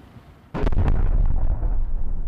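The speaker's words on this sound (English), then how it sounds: "that's when they're going to detonate their IED." An IED detonates during rebel combat in Syria: a sudden loud blast breaks in after a quieter moment and gives way to a heavy rumble of debris and echo that carries on to the end.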